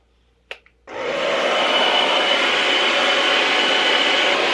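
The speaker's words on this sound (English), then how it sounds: "this is my blow dryer, the Silverbird" A Silverbird hair blow dryer clicks on and runs with a loud, steady whooshing hum, close by and continuous after a brief click and start-up.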